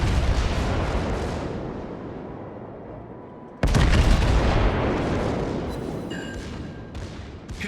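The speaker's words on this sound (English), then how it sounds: "There's the clean salvo." USS New Mexico in World of Warships fires a battleship gun salvo, a heavy booming blast that rumbles and fades, then a second loud crack of gunfire rolls out, with faint mechanical tones under the decay.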